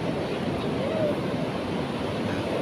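Waves breaking along the shore at Widara Payung beach form a continuous roaring hiss, even in level and close, with wind buffeting beneath and no clear talk.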